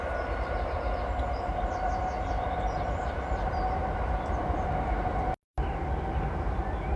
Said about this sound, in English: Just wait for the train to pass